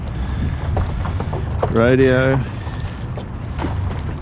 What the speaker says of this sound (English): Very windy as well, but we'll give it a go.